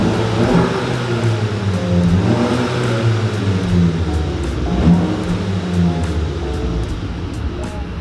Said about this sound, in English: Gave a few revs.